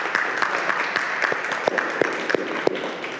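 An audience clapping at the start of a book club fireside chat, a steady wash of many hands with a few sharper claps standing out, moderately loud.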